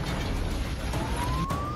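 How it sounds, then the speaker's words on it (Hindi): An air raid siren wails across the city of Dnipro during a missile strike, heard at a distance as a steady, slowly rising tone over a noisy background. "हवाई हमले के चलते पूरे शहर में सायरन बजने लगे।"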